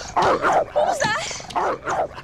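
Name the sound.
dog barking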